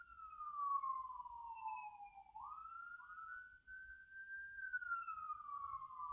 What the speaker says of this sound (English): And knowing that there's an ambulance waiting for that to go by.